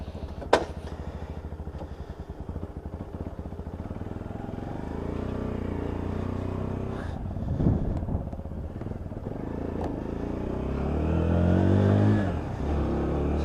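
A Lexmoto ISCA motorcycle fires up straight off the button and settles into a steady, close idle, with a brief thump and a rev swelling near the end.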